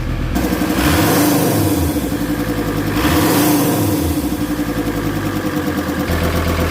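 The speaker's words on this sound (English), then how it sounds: "She starts with full exhaust. She's quite quiet." A VW T4 van engine with a full exhaust revs up and eases back twice, a steady deep exhaust rumble running throughout, close and loud with no voices.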